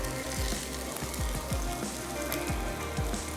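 Bhartay wala qeema fries in a pan until light golden, a loud steady sizzle with soft scraping turns of the spoon, no voices.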